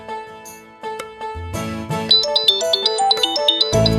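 A bright electronic ringtone plays a quick rising melody of chiming notes, loud and close, with no voices.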